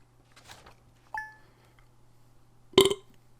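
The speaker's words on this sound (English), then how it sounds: "That was that burp I was talking about." A person lets out a single loud, guttural burp near the end, after mostly quiet moments and a brief faint clink earlier.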